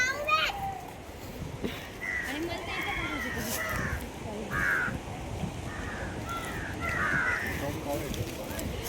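Crows cawing outdoors at Bhandardara, several harsh calls repeating at intervals, moderately near, mixed with children's voices and talk in the background.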